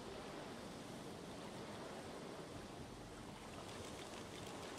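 Gentle, quiet ocean surf ambience in the video game Divinity: Original Sin II, a steady soft wash of waves with no voices over it.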